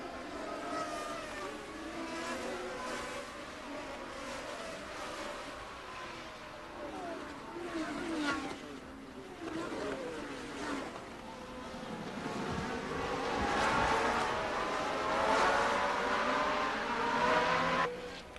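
Formula 1 race cars from the 1981 season racing, with high-pitched engines wailing and swelling as they pass at a distance, several overlapping and building to a louder surge near the end.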